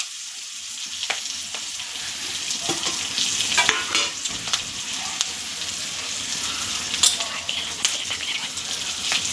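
Stuffed green chillies with ground masala sautéing in a pan, a steady close sizzle with repeated stirring scrapes and clinks throughout, no talking.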